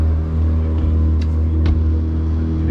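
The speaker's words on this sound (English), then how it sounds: "So again, I'm on the kicker motor right now." The kicker motor of a 2022 Seasport Kodiak 2600 boat runs with a steady, close, low droning rumble that holds an even pitch throughout, unbroken by talk.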